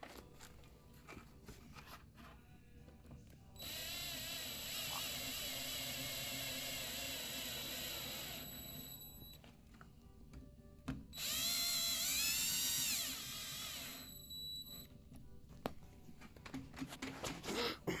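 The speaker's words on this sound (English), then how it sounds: "we go kind of slowly with the drill to make sure that they're not over tightened" A power drill drives screws into a bifold door in two whining bursts of several seconds each, run slowly, with quiet handling clatter and clicks between and around them.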